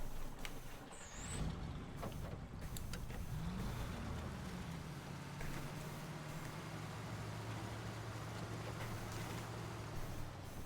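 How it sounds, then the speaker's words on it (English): Truck engine idling and moving in reverse in a Michigan map driving game, a steady low rumble held at moderate loudness throughout with a brief higher whine near the start and no talk. "I gotta get this truck backed away so I can get in the Taiga"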